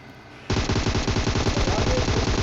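Rapid, steady bursts of rifle gunfire fired without a scope in a video game break out suddenly after a quiet moment and continue loud and dense to the end.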